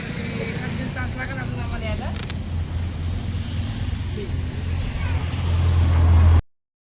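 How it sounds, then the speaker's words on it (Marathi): A car pulls up to collect stranded travellers by a roadside after their own vehicle broke down, its engine rumble growing louder and nearer before stopping, with people talking over it. "ही आली गाडी."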